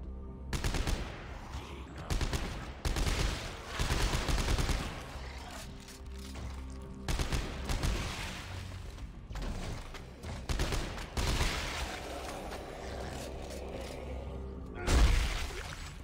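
Gunfire in the sci-fi horror video game Dead Space 3 comes in repeated loud bursts of rapid shots separated by quieter pauses, with mechanical clatter and one heavy blast near the end.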